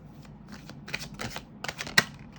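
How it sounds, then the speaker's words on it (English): Quiet papery riffling of tarot cards shuffled close by during a reading, in several short bursts, with one sharper snap near the end. "I just feel like I need to shuffle a bit"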